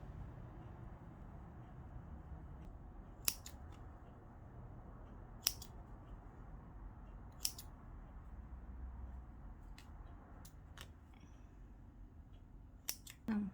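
A seam on a formal dress is unpicked with small, sharp clicks of a seam ripper or scissors spaced every couple of seconds over a quiet low hum, with a brief cluster near the end.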